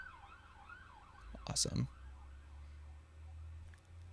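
An emergency vehicle siren wails in the distance, rising and falling in long sweeps beneath a noisy street scene, with a brief loud burst of traffic noise and a spoken word partway through.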